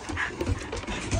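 A dog pants rapidly and closely in short, breathy huffs, with a faint whimper mixed in.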